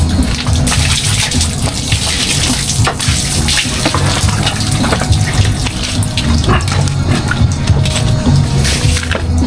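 Water gushes steadily and loudly from a hose or tap while a pig is being bathed, a continuous close splashing rush with no pauses.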